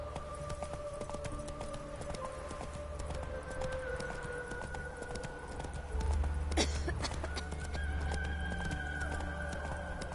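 Horse hooves clip-clopping in a PS4 video game, a steady rhythmic trot of hoofbeats under game ambience and music, with a brief sharp sound midway and a low rumble joining later.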